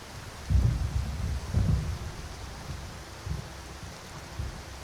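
Rain and rolling thunder in the video game Skyrim: steady rain hiss under several deep low rumbles, with two strong booms early and softer ones later.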